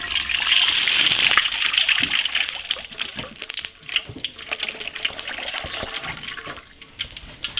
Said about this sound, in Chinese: 把猪脚炸下，去除它的油脂